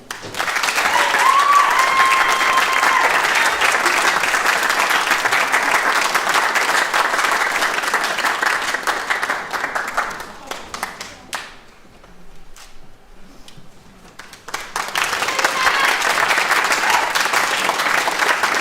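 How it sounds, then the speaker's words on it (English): Loud, dense applause from a graduation ceremony audience fills the hall, dipping briefly to a thinner patter around the middle before swelling back to full strength. "A round of applause for the HNC Healthcare Practice."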